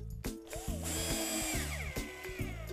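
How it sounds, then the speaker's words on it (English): A power drill drives screws in short whirring bursts, the motor pitch rising and falling with each pull of the trigger, close and steady with no talk. "we'll put 2 screws in to hold that in place"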